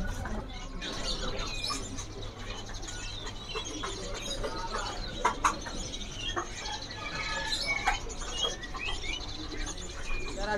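Juvenile oriental magpie-robins (murai) give scattered high chirps and short tweets at a bird market, mixed with background chatter and ambient noise.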